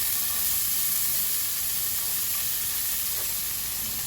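Onion frying in olive oil in a pan, a steady close sizzle and hiss running evenly throughout with no talk.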